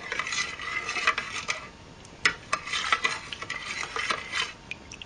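Cayenne pepper mixed with lemon juice in a bowl, stirred by hand: a steady run of close scraping and clinking of utensil against the bowl, with a few sharper taps, no talking.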